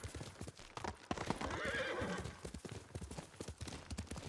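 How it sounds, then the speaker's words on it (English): A horse in the video game Ghost of Tsushima gallops with rapid, close hoof clip-clops, and a whinnying neigh rises partway through. "Good horse, Nagi."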